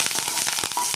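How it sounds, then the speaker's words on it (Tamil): Mustard seeds and curry leaves spluttering in hot oil for a quick sambar, a dense run of sharp pops and crackles over a steady sizzle, close and lively. "கடுகு நல்லா பொரியட்டும்"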